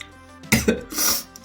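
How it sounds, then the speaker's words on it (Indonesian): A single harsh cough, close and loud, breaking into a couple of rough bursts before trailing off. "Kok bisa batuk?"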